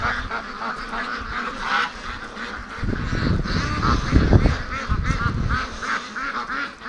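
Free-range ducks honk and quack together in a busy, overlapping flock chorus, with a louder burst of calls in the middle as the birds are herded along toward a lake.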